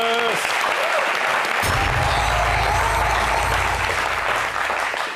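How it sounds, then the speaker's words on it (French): An audience claps loudly and continuously for a guest, a thick wash of applause lasting the whole stretch, with a brief voice at the start and a low rumble joining partway through. "Applaudissez pour Ahmed Bakayoko"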